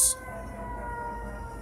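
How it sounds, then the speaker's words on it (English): A siren wails in the background as a steady, faint tonal drone with a low rumble beneath it, far off and continuous after a brief sharp sound at the start. "excuse the siren in the background, ladies and gentlemen."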